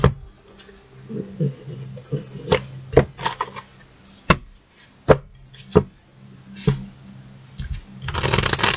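Tarot cards are shuffled by hand in a series of sharp riffling snaps and soft slides at an irregular pace, with a longer burst of riffling near the end and no talk.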